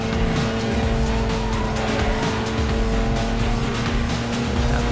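Car in Need for Speed Most Wanted 2005, a loud engine roar with sustained tire squeal as it brakes and slides through a turn, steady and close with no talk.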